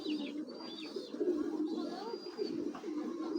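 A young racing pigeon, hatched in 2021, cooing in a continuous low throaty rumble close by, with faint higher chirps from other birds behind it.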